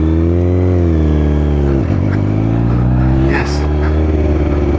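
A motorcycle engine revs loudly and close while pulling away in third gear, its pitch dipping as it bogs then climbing steadily again, with a brief spoken word over it.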